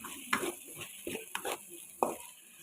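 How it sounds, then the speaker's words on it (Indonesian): Spice paste for gulai kikil sautés in a pan, with soft scraping stirs and light sizzling in quiet, uneven bursts close by. "Kita tumis terus sampai dia benar-benar matang ya"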